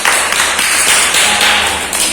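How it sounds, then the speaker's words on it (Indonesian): Children in a primary school classroom clap together for about two seconds, a loud, dense patter of many hands that fills the room. "tepuk tangan untuk kelompok 2"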